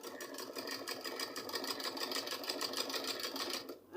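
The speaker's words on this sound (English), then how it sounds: "I'm stitching very close to the foam, but not on top the foam." Sewing machine stitches steadily and rapidly at close range, running alongside the foam padding of a pleated V-shaped turban cap, then stops abruptly just before the end.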